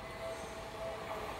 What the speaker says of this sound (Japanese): 急行西武新宿行きが来ました。